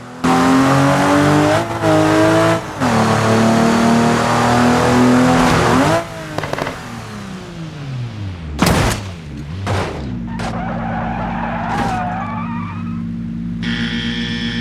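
A Toyota Supra in the BeamNG Drive driving game revs hard and loud with a sustained engine whine, then the pitch drops as it shifts and decelerates, with thuds and skids before a steadier lower drone.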